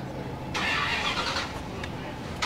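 A 1967 Corvette with a small-block V8 at an outdoor cruise-night car show, a brief engine burst that rises over a low background and fades within about a second.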